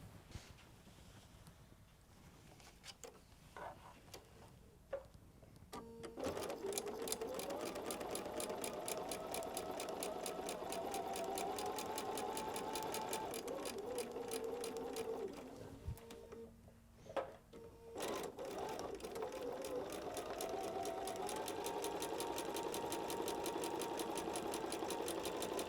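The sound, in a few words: sewing machine stitching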